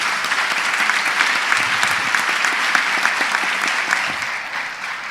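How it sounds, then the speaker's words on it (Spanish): An audience gives sustained, dense applause, loud and even, with many hands clapping at once and a slight tapering near the end. "Un aplauso para ellos, por favor."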